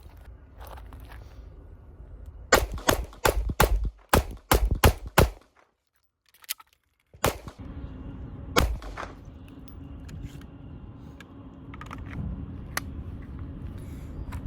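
A custom Glock 34 pistol fires a quick string of sharp, loud shots, about eight in fast succession, then one more after a short lull, with faint shuffling and background noise between.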